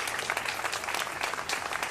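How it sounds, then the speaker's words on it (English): Audience applause at an outdoor mayoral press conference about Fulton Mall, a steady moderate crowd clapping with no pauses. "give them a round of applause"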